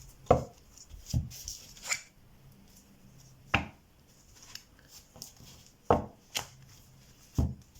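A tarot deck is cut and handled by hand, producing sharp, close card taps and slaps at irregular intervals with quiet rustling between them and no speech.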